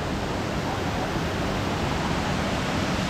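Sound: waterfall

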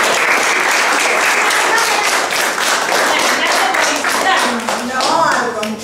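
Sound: applause from children

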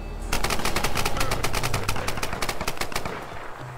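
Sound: gunfire in Tomb Raider 2013 multiplayer video game

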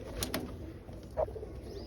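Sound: pigeons cooing

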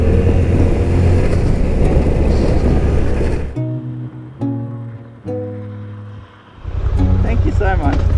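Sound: Suzuki V-Strom 800DE motorcycle engine while climbing a road

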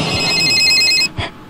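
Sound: telephone ringing in video game Bad Milk

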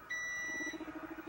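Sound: electronic beeping

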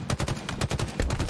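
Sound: sniper gunfire in video game Halo Infinite

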